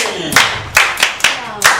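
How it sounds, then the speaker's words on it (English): A classroom of pupils clapping for a student, five loud, distinct bursts of group claps in an uneven rhythm, each bright and sharp with a quick decay, close by, with a voice under the first. "Clap for him!"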